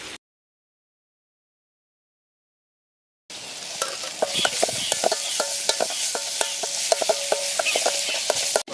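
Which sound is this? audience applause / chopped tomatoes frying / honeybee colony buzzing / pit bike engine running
chopped tomatoes frying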